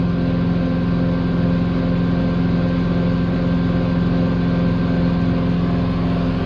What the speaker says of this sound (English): Raise the RPM automatically until the regen is complete.